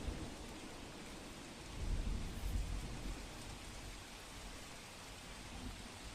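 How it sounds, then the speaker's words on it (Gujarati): Heavy rain pours at an emptied Rajkot fairground during the Janmashtami Lok Mela, a steady faint hiss with a low thunder rumble swelling briefly partway through. "વરસાદ વરસી રહ્યો છે."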